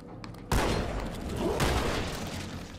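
A shotgun in Halo 2 Anniversary fires one sharp loud blast, followed by a dense ongoing clatter of combat gunfire and a second heavy burst near the middle.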